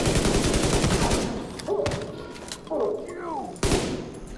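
A fast burst of automatic gunfire from The Division 2: Warlords of New York, set in Two Bridges, rattles at the start, then gives way to a voice talking, with one more sharp shot near the end.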